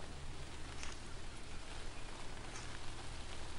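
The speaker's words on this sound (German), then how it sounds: "Oh, es regnet." Rain falls steadily in the video game Sneaky Sasquatch, a dense, even hiss of pattering drops that holds constant throughout with no voices over it.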